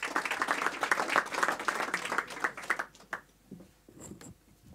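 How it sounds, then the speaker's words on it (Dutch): An audience claps after a talk at a mobility masterclass, a dense burst of handclaps that thins out and fades to a few scattered claps near the end. "Applaus."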